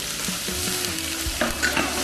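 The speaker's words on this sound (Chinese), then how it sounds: "热锅凉油，怼入95号菜籽油，把咱们这个葱姜大料压里头" Scallion, ginger and star anise are stirred into hot rapeseed oil in a wok, giving a dense, continuous sizzle with scraping stir sounds, close up and with no speech.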